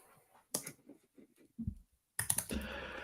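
Keyboard typing by a self-described poor typist: a short burst of clicks near the start, then a denser, louder run of keystrokes toward the end, fairly close with no talk.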